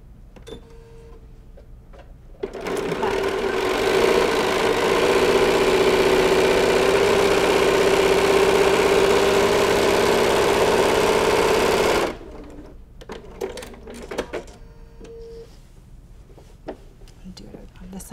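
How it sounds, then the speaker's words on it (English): Sewing machine stitching straight quilting lines along strip seams, a steady fast whirring run of about ten seconds that starts and stops abruptly, with quiet room sound before and after. "I just quilted lines, straight lines right along the seams"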